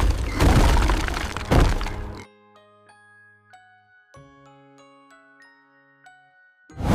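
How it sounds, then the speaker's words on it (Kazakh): A cartoon house collapses after the wolf blows on it in a Three Little Pigs tale: a loud, rumbling crash for about two seconds, then quiet, tinkling chime-like notes and soft thuds. "Үй ақыры құлап түсті"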